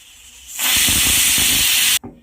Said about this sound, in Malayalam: ഒരേ ഒരു വിസിൽ വന്നതും ഓഫ് ചെയ്യാം